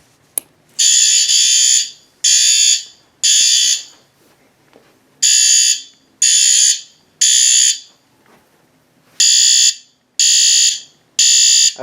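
System Sensor fire alarm device sounding in loud, close bursts of a harsh high-pitched electronic tone, three pulses per group in a repeating temporal pattern with short silent gaps, heard alone.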